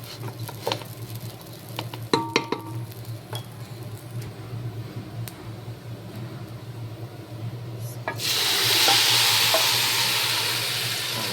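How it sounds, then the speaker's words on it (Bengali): Rice for chicken biryani bubbling in a pot after water is added, a close, steady boil with sizzle and stirring clinks, growing louder and more hissing toward the end, no talk. "চাল ফুটতেছে, দেখছেন না?"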